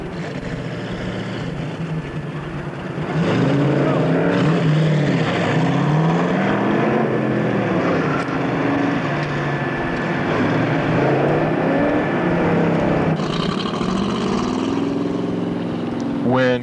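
Race cars at an autocross held at a convention center lot in Portland, Oregon, their engines droning and swelling in pitch as they accelerate and pass, loud and continuous, with voices faintly mixed in.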